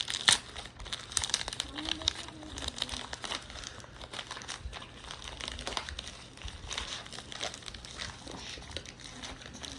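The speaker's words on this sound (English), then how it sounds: "I don't have a scissors, so I'll just rip it off." Pen packaging for a Uni Ball 217 pen is ripped open by hand, with close, scattered crinkling and tearing plastic over several seconds, dense at first and then sparser.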